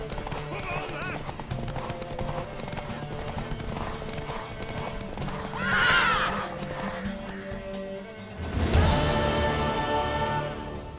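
Horse hooves clip-clop with occasional neighing in The Witcher 3, under a steady music and ambience bed. A louder burst arrives near the end, and a voice talks over part of it.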